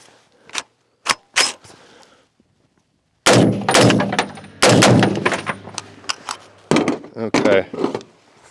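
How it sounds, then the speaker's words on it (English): Bear Creek Arsenal AR-15 rifle fired outdoors at a target: a few sharp, loud, close shots spaced apart, then a pause followed by a denser burst of rapid shots with ringing echoes. "just blasting at this dummy target"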